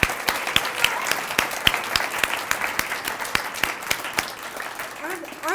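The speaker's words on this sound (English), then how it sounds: "let's give the group another hand" An audience at a student presentation event applauds with a steady patter of sharp, distinct claps, moderately loud and sustained throughout, thinning slightly toward the end.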